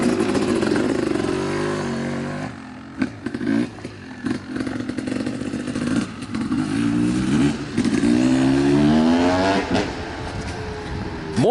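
A 1989 Honda CR250R two-stroke motocross bike with its stock pipe and silencer revs up close, its engine note climbing and falling through repeated throttle blips, then rising steadily in pitch toward the end.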